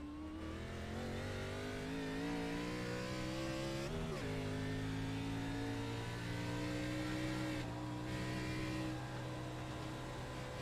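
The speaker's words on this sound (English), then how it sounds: "Really pushing the car out of the pits" A race car in a Kentucky cup series race accelerates hard out of the pits, its engine revving steadily upward with audible gear changes, loud and continuous throughout.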